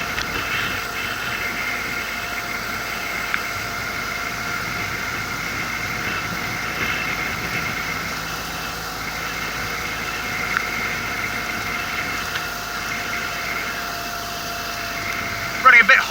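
A Ford GPW jeep engine idling on a hot day, a steady, even low hum and rattle holding constant, with a couple of small knocks near the end.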